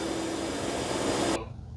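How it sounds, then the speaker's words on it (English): A Eufy X8 Pro or Dreame D10 Plus robot vacuum and mop drones with a loud, steady whir as it spins its brush roller backwards, then cuts off abruptly near the end, leaving a faint hum. "It's turning that brush roller backwards."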